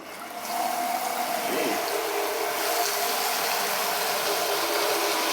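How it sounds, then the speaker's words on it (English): Pressurized water gushes steadily from a pipe during a condo demolition, a broad, loud continuous hiss and rush that starts abruptly and holds without letting up. "Look at the pressure of the water of this thing."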